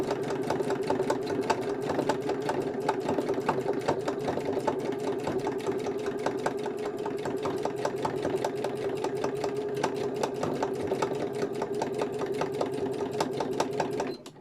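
A sewing machine stitches a fabric gardening journal cover, its needle chattering in a fast, even, continuous rhythm close-up for the whole stretch before it stops at the end.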